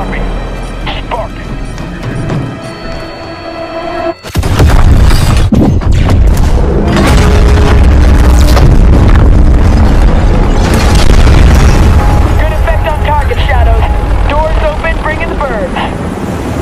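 A lit fuse charge detonating in Call of Duty Warzone, a loud close boom breaking in after a quieter stretch, followed by sustained rumbling blast noise and aircraft drone, with voices talking over it.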